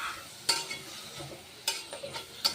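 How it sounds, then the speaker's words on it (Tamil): Mutton pieces sauté in hot oil with turmeric and salt for Chettinad mutton chukka, a steady soft sizzle broken by three sharp scrapes of a spoon stirring the pan, no voices. "இப்போது அந்த எண்ணெயிலே நல்லா வதங்கட்டும்"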